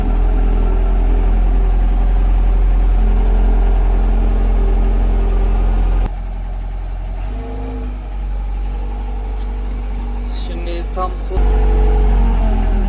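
A vehicle engine idles and pulls slowly in reverse gear on an asphalt groundwork site in Germany, a loud steady drone shifting in load midway, with someone talking briefly and faint squeaks near the end.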